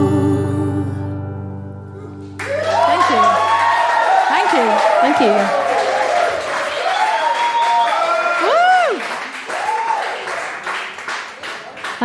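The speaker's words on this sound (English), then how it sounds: "It's wonderful. nice to hear applause." An audience at a live gig claps and cheers after a song ends, a dense wash of applause with whoops and shouts rising right after the last note and continuing loudly to the end.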